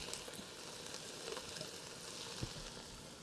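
Onions dropped into a hot pot for kale soup with beef, sizzling steadily: a constant, quiet frying hiss with a few soft bumps and stirring sounds, no voice.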